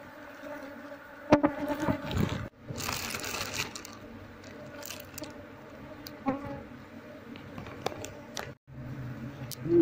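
A honey bee colony buzzes near the microphone as its combs are shifted into a hive box, a continuous insect hum broken by handling knocks and crunches.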